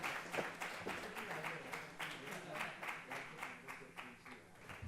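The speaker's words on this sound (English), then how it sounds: "A huge round of applause," An audience at a workplace summit gives a round of applause, a faint but steady patter of many hands clapping in a hall, continuous for several seconds with no talking.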